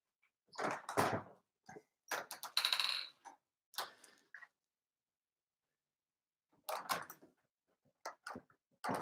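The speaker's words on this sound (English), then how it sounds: "So I'm just going to open my window now and door." Scattered clunks, rattles and sliding knocks come in short bursts separated by silence, like a window and door being opened nearby.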